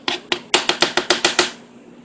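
A knife chops an onion on a cutting board while chicken is being cooked. About nine crisp, evenly spaced chops land close and loud, then stop, with no talking.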